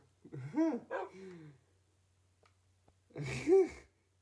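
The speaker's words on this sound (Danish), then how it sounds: "en hund" Two short bursts of a dog's barking, close by, the first at once followed by a softer yelp, then a pause before another loud bark.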